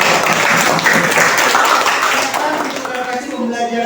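Classroom applause for two students: a burst of hand clapping from a group of pupils that fades toward the end, with voices mixed in.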